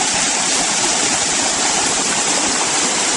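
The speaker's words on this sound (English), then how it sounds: "this is the water going down the waste gate" Irrigation water rushing down a waste gate toward a canal, a constant dense roar of flowing water heard up close with no other sounds.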